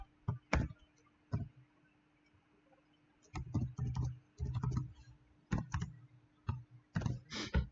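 Someone types on a computer keyboard to enter a value into a simulation. Irregular bursts of sharp key clicks come in small clusters separated by short pauses, close and fairly quiet.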